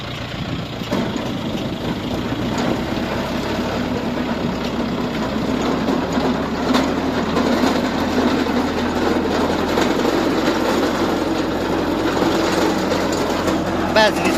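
A Lovol 354E tractor pulling a Wirax potato digger through a field runs with a steady, loud, rumbling engine drone and mechanical clatter that continue without a break.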